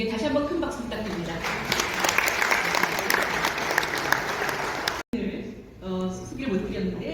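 Hearty applause from an audience honoring a committee chairperson at an international academic forum in a Seoul hotel ballroom, filling the room steadily for about five seconds before a short break and a voice speaking.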